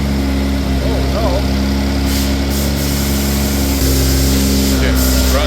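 B58-swapped BMW E24 engine running with a persistent misfire, a loud, close, steady drone with uneven pulsing and a brief blip partway through, while people talk over it.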